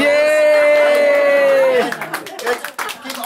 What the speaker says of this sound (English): Give Chessy a little round of applause.